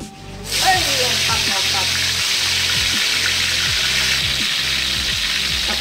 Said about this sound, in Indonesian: Kita mau goreng ini si ayam yang tadi.